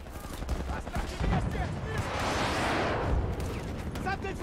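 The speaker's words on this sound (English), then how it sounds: "They're shooting at me!" Battlefield 2042 gunfire in the middle of a firefight, a rapid rattle of shots and a swelling burst of fire peaking midway, loud and dense throughout, with in-game voices calling out over it.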